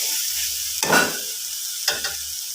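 Spices and salt stirred in a frying pan for egg masala curry, with two distinct bursts of scraping stirring over a steady soft sizzle, close and moderately loud, no talking.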